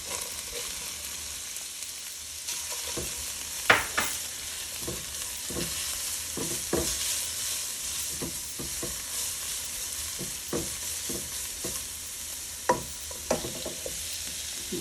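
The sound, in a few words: carrots added to frying cauliflower rice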